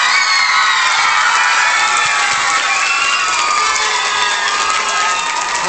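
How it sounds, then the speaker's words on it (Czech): Crowd at a children's fitness event in Vizovice cheering and applauding loudly and continuously, with children's shouts and whoops mixed into a dense, steady roar. "Tak ještě jednou potlesk všem z této kategorie."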